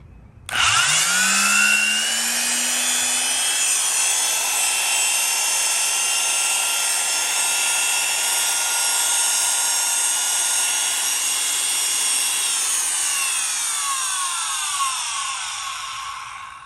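A Black & Decker Type L power tool spins up and runs steadily at high speed for the whole stretch, a loud, close whine with layered harmonic tones that holds almost constant before easing slightly near the end.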